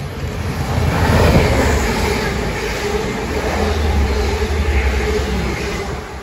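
A Class 185 diesel train passes through a station near Manchester, a broad rushing roar that swells early and holds steady before easing off.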